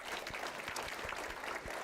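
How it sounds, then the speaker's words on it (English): Audience applause fills the room at an anniversary celebration for a community center, a steady dense patter of many hands clapping at moderate distance, with no talking over it. "give her a round of applause"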